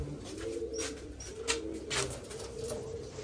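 Pigeons coo in low, rolling phrases, three or four repeated calls at an even pace, fairly near, with faint chirps above and no talk.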